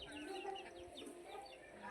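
Chickens clucking in a sunny village yard, a soft, busy cluster of short calls overlapping at moderate distance with faint background noise.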